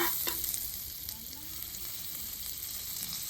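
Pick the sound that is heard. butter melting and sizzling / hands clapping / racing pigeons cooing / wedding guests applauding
butter melting and sizzling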